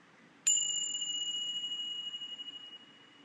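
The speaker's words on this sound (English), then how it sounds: "We'll finish up again with another vibration of sound with the chimes." A single bright chime struck once, ringing clearly and sustaining with a slow wavering decay against a quiet background.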